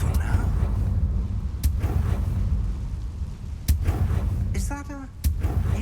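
A Confringo blast spell fires in Hogwarts Legacy, giving several sharp percussive cracks and booms over a steady low rumble of game ambience. One whistling magical burst comes near the end, and a voice speaks briefly among the impacts.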